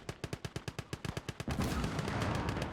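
Machine gun fire in a Gates of Hell WW2 strategy game: a rapid, evenly spaced string of loud close shots, followed by a denser, rumbling burst of overlapping gunfire.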